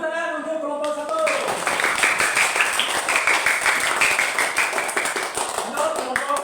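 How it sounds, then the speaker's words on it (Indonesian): Applause for the first group at a school performance assessment in Indonesia, dense steady clapping from a room of people lasting several seconds after a brief moment of voices at the start. "Tepuk tangan untuk kelompok 1."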